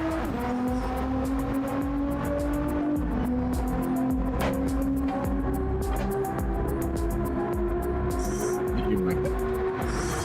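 Race car in a racing video game at a live qualifying event at a gaming expo, a constant engine drone shifting pitch through a hairpin and straights while a commentator talks over it.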